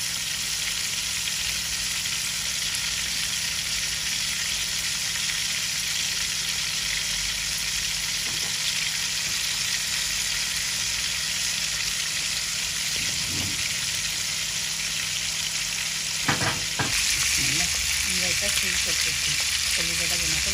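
Tilapia fish frying in hot oil gives a steady, close sizzle that fills the whole stretch, with a few brief clinks of a utensil near the end.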